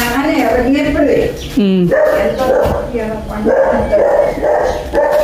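A frightened dog barks and whimpers near a vehicle in a few short, pitched bursts, mixed in with loud overlapping talk from people close by.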